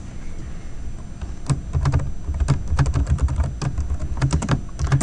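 Java code being typed on a computer keyboard: rapid, irregular clusters of crisp key clicks, close and fairly loud, speeding up after a brief quiet start.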